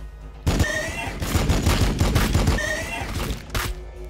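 Gunfire in Warhammer 40k Battlesector, a loud, sustained volley of rapid shots hammering away for several seconds, then stopping briefly before a final short burst.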